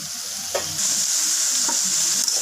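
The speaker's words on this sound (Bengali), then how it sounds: "শাকগুলো দিয়ে একটু নেড়ে চেড়ে নেব।" Pumpkin and pumpkin greens sizzle steadily in a hot frying pan, with a couple of soft scraping stirs breaking the constant hiss. No one speaks.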